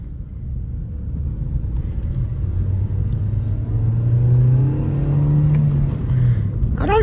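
A Hyundai Veloster Turbo pulls away in first gear, its engine note rising steadily as it accelerates, a loud continuous in-cabin drone and road rumble heard alone.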